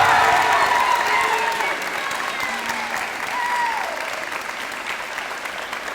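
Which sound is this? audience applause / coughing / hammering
audience applause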